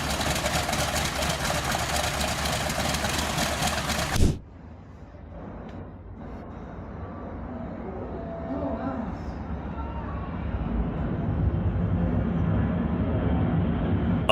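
A Grumman TBM Avenger's big radial engine runs with a loud, steady roar, drops off abruptly, then keeps going at a lower rumbling idle that slowly builds back up, close to the microphone.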